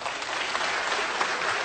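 Audience applause at an Indonesian comedy show in Jakarta, a short, loud, dense burst of crowd clapping that holds steady for under two seconds.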